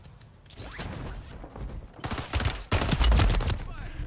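Gunfire in a shooter video game crackles in quick, dense bursts that grow louder and heavier toward the end, mixed with mechanical clicks and a faint voice underneath.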